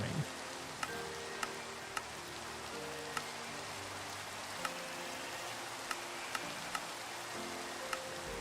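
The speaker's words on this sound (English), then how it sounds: "And more rain." Steady Minecraft rain hisses across the whole stretch, an even patter of drops with occasional sharper ticks, while soft game tones and notes sit quietly underneath; no one speaks.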